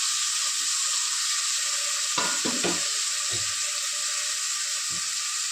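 Green chilies and onion sautéing in a pan for chicken kulambu: a steady, close sizzle of frying runs throughout, with a few soft scrapes and knocks of stirring.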